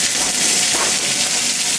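Ninety-percent lean ground beef sizzles steadily in a hot oiled pan, a continuous close, loud broadband hiss with no pauses.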